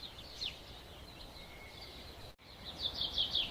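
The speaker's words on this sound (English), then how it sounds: "I can hear the birds singing." Birds chirp faintly on a farm in the morning, with a few thin high calls early on and a brighter cluster of tweets near the end over a soft, steady background.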